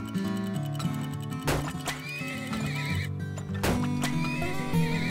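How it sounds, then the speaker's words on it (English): In the oil-drilling video game Turmoil, a horse whinnies twice, loud and close, over steady clip-clopping hooves and an ongoing game backdrop. "I might need another horse."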